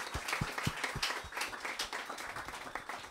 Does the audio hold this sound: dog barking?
no